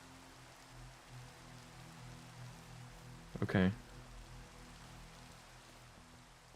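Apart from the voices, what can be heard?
rain falling in a video game (Minecraft)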